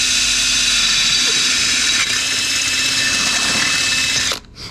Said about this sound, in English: Drilling into your brand new motor.